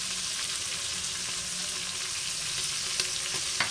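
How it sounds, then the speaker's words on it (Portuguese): Coarsely chopped onion and garlic fry in a pan for a Brazilian bean dish, a steady, dense sizzle throughout with a few small clicks near the end. "Vamos deixar fritando aqui um pouquinho"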